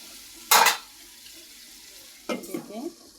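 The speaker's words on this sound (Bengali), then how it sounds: "এই যে তরকারিটা কষানো হচ্ছে" Curry of dried fish, jackfruit seeds and eggplant being sautéed in a pan, two short bursts of stirring and scraping with a brief sizzle, separated by a quiet pause.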